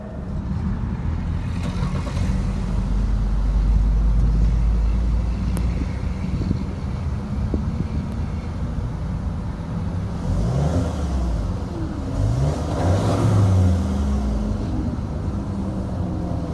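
A 2018 VW Tiguan SEL's engine runs steadily just after a push-button start, a continuous low rumble close by with a few brief rising tones later on, and no talking.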